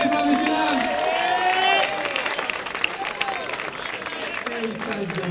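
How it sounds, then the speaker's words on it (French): Spectators clapping and cheering at a professional padel tournament quarterfinal after a break of serve, a loud crowd patter that gradually thins while an announcer talks over it. "On peut les applaudir très fort, messieurs, dames."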